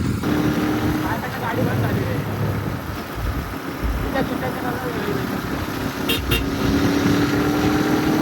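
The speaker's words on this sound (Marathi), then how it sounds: "जरा आता रेस करतोय गाडीची, बघा तुम्ही." A Royal Enfield GT650 motorcycle engine is revved on a roadside, giving a loud, sustained roar with rising and falling throttle over steady road noise, with a voice faintly heard.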